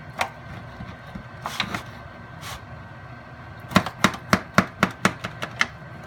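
A knife cutting through grilled Southern style ribs on a board, a few scattered chops followed by a quick even run of about eight sharp knocks, close and distinct with no talk.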